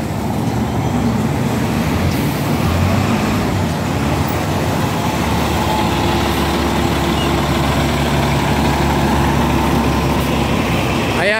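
KMB bus idling at the Argyle Street stop in Hong Kong, its stalled engine a steady low rumble mixed with surrounding roadway traffic, loud and continuous throughout.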